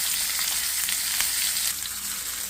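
Avoli fish sizzles steadily in hot oil in a pan, frying for a coconut milk fish curry; the crackle is loud and continuous, close up, with no talking over it.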